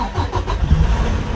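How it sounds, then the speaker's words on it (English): A Detroit DD15 diesel truck engine, a 2019 unit installed in a 2015 truck, cranks and catches, settling into a deep, steady low rumble close by. "and start the engine."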